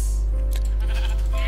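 Sheep bleating in the video game Minecraft: a short, close burst of bleats standing alone, with no talk over it.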